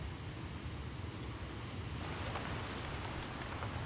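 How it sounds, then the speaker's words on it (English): Steady rain falls in the temperate Otway forest of Victoria, Australia, a dense, even hiss of drops on leaves and ground that grows slightly brighter partway through, heard alone. "The koalas here are sitting out the rain too."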